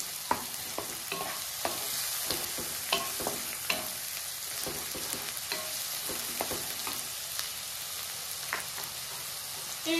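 Onion and ginger paste fries in a pan with a constant bright sizzle, broken by soft stirring scrapes and light taps, heard close and without talking.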